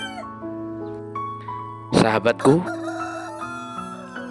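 A rooster crows once, loud and close, with a chicken clucking around it, over sustained background music tones. A voice speaks briefly.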